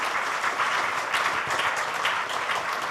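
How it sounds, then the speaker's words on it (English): A crowd at an education entrepreneurship event applauds steadily, a continuous wash of clapping from many hands with no break or speech over it. "a round of applause for the person behind TR for Teachers"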